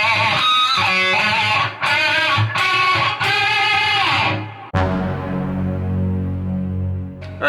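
A distorted electric guitar plays a section of a solo, with fast choppy notes that give way to a long ringing sustain, loud and close with no voices.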